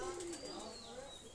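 A pair of Shiyalkuti pigeons, one youngster with a cataract in one eye, give soft, faint coos with a brief flutter of wings, mixed with a person talking nearby.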